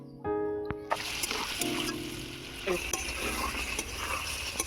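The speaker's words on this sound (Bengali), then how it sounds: "এবার আমি ধুয়ে রাখা আলুগুলো দিয়ে দেবো। আলুটাকে আমি প্রথমে ভালো করে কষিয়ে নেব।" Washed potatoes sauté in hot, spiced oil for a Bengali potato and cauliflower katla fish curry, with a steady sizzle and repeated scraping stirs; a few clear tonal notes ring briefly at the start.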